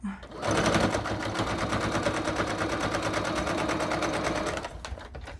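A sewing machine stitches a fabric wallet with card slots, running in a steady, fast mechanical rattle for about four seconds at close range before slowing and stopping.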